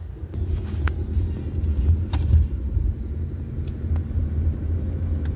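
Car driving away from a house on a residential street, a low steady engine rumble heard from outside at moderate distance, with faint background noise and no talking.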